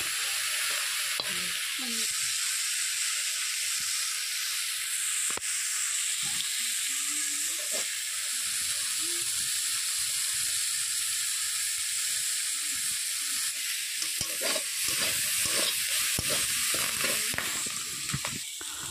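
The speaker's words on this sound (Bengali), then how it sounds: "পুঁইশাক মেচড়িটাকে কিছু সময় জাল দিয়ে একটু হতে দেব। আবারও একটু নেড়ে নেব।" Malabar spinach stems fry in oil in a pan, giving a steady, close hiss and sizzle throughout, with occasional soft scraping from stirring.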